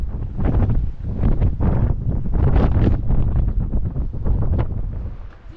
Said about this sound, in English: It's the windiest day of the year